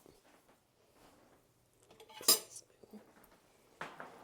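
Metal utensil scooping cooked garlic from a soup pot, soft scraping and clinks against the pot with one sharper clatter, faint and close in a quiet kitchen.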